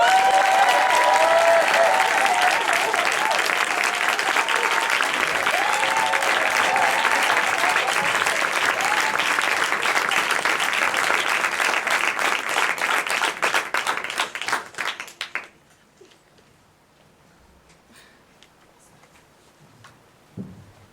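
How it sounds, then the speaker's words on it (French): Loud, sustained applause from a large crowd with some cheering, greeting a speaker at a speaking competition, holding steady for about fifteen seconds before quickly dying away into near silence. "Vous pouvez vous lever pour l'encourager, mais s'il vous plaît, faites beaucoup de bruit pour elle, Louise Michel!"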